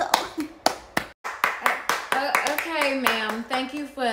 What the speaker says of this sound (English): let's clap it up for Sister Me, Coco.